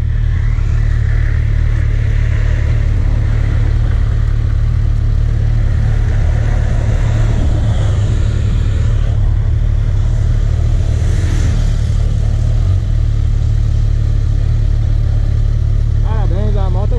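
A loud, steady 2020 Kawasaki Versys 1000 Grand Tourer engine drones throughout at cruising speed, with wind rush and a slight pitch rise near the middle.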